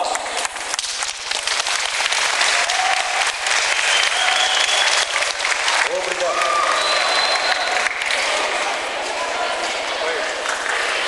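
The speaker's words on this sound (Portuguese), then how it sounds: "Vamos ficar em pé e receber o doutor com as fortes palmas." Loud, dense applause from a standing crowd at a 2012 local health council meeting in Cidade Nova, welcoming a doctor; it sustains throughout, with voices mixed into the clapping.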